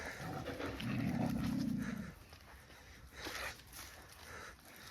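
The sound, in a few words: wolves panting and growling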